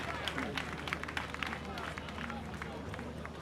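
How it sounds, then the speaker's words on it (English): A crowd at the Tree for Life reforestation launch with President Mahama gives a round of applause, with many quick claps and some murmuring voices running steadily throughout. "a hand of applause"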